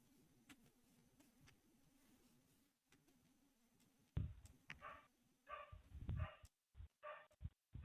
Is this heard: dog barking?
yes